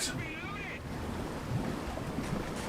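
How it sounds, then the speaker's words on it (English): A vehicle ploughing through water in War Thunder, a steady churning splash and wash with a brief warbling tone early on, moderately loud and continuous, no talk. "But I love the driving through water sound."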